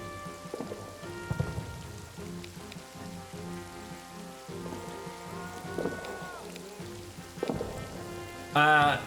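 Rain and thunder in the trench-warfare video game Nerves: a steady patter of rain under low rumbling thunder, with tonal game music layered over it and a brief louder burst near the end.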